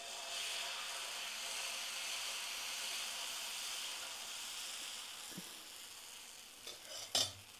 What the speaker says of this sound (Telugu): కొద్దిగా నీళ్ళు వేసి ముందు పెనాన్ని తుడుచుకోండి.